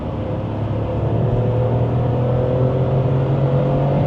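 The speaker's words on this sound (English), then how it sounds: "I'm hearing the engine rev, properly rev." A Volkswagen Up's small engine drones steadily, its pitch slowly climbing as it revs under load toward 50 mph, with continuous road rumble throughout.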